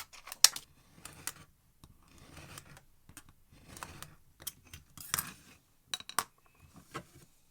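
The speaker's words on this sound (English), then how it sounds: "So now I've got a mark I can just cut using the scissors" Scissors snipping through card for a scratch-built model railway yard office: a run of short, crisp cuts in irregular bursts, close and fairly quiet, with small pauses between snips.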